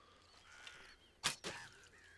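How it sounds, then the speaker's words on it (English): A crow in the video game Medieval Dynasty gives two short, close caws in quick succession against a quiet game backdrop. "Ooh, there's a crow."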